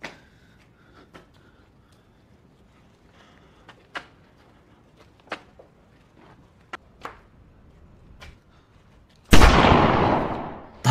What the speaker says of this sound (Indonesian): Tanpa diduga, tembakan He Sang menembus bagian perut Wen Zi.